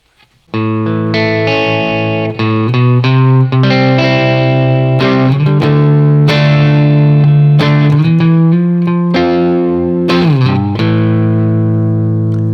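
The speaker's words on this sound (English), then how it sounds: "Over to the bridge position, I've got plenty of gain happening." An electric guitar on the bridge pickup plays sustained chords and notes through heavy high-gain distortion with reverb, loud and saturated throughout.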